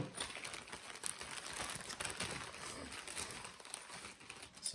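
Cardboard packaging of a bicycle cassette being handled, quiet close crinkling, scraping and light clicking as the box is opened and moved, with no talking.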